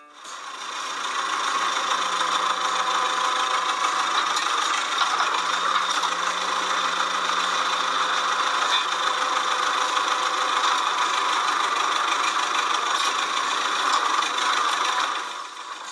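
A steady tractor engine drones and rattles continuously for the whole stretch, even and unchanging, with no voices.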